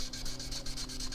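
A black-stained guitar body is sanded by hand in quick, even back-and-forth rubbing strokes, soft and close, with roughly eight strokes in a brief burst.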